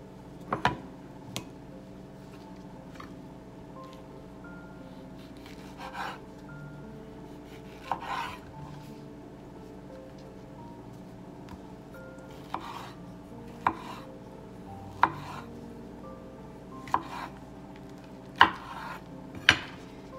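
Ripe peaches cut into slices with a knife, a series of sharp, close taps as the blade strikes the board, spaced unevenly and growing more frequent toward the end, over a quiet kitchen background.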